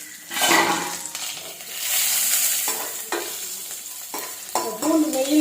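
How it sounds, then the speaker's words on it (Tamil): Garlic cloves and dried red chillies frying in ghee for beetroot rasam, a loud close sizzle with repeated scrapes and clinks of a spoon against the pan, no talking. "இந்த பூண்டு நெய்யில் வதங்கிட்டோன்னா"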